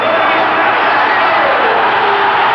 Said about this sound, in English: And this crowd is on its feet.